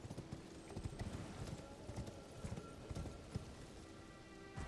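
Horse hooves clip-clop steadily at a gallop in the video game Elden Ring, a close, continuous rhythmic pounding with no talking.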